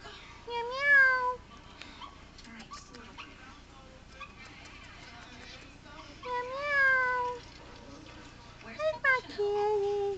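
A pet cat meows several times, with drawn-out rising and falling cries spaced apart, close and fairly clear over a quiet indoor background, while a person talks to it now and then.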